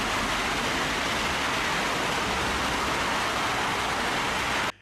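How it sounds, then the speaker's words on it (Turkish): Heavy downpour pouring over the city center streets of Samsun, Turkey, a dense, steady roar of rain hitting pavement and surfaces, loud and continuous with no voices. "Samsun merkezde öğle saatlerinden itibaren sağanak yağış etkili olmaya başladı"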